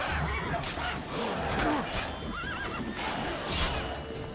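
A horse in The Witcher 3: Wild Hunt whinnies amid game ambience, with a rising neigh in the middle and hoof clip-clop and scuffling around it, all at moderate loudness.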